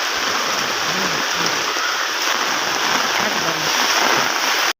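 Heavy rain falling steadily outdoors as ponds and puddles fill and overflow, a dense, loud, constant hiss with a faint voice talking underneath.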